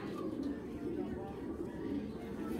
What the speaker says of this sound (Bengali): এত বড় সাইজের একটা কবুতর,